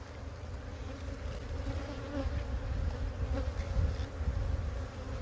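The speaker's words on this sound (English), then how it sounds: "Look at that box of bees." Dense, steady buzzing of many honey bees swarming close by around a hive box, a continuous droning hum that swells slightly over time.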